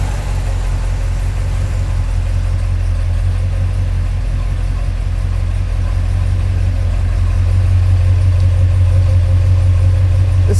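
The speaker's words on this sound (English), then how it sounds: "Now come listen to the exhaust." A 1969 Pontiac GTO Judge's factory exhaust idling steadily, a deep rumbling drone that holds constant and grows slightly louder near the end, recorded close with no talking.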